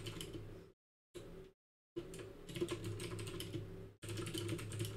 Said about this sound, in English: Just hear us typing.